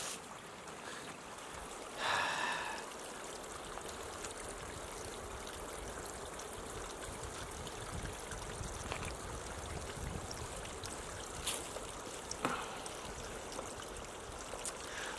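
A stream flows near a hidden waterfall at an overnight camp, giving a steady, moderately faint rush of water with a brief splashy burst early on and a few small clicks.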